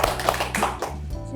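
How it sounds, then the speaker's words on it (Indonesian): A small group claps briefly for a university karate team after their championship win, a short patter of hands heard close by under and between conversational talk. "tepuk tangan dulu semuanya."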